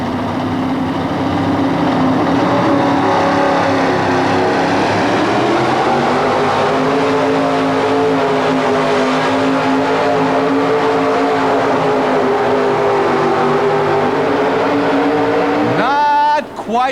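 Double Trouble, a modified 4WD pulling truck from West Bend, Wisconsin, roars through a pull inside the St. Paul Civic Center in 1991. The engine note stays loud and sustained and climbs in pitch as it strains down the track.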